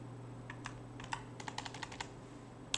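Quiet, uneven tapping of keys on a computer keyboard while typing a web-development course notice, with a steady low hum underneath and no talking.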